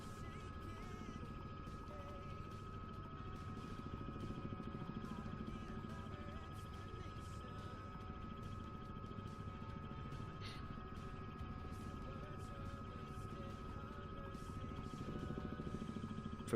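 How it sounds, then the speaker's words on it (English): A helicopter flying in a flight simulator game, a steady close rotor drone with a rapid rhythmic blade chop and a constant whine, unbroken throughout and fairly quiet, with a voice faintly present at times. "I do love the sound of a helicopter."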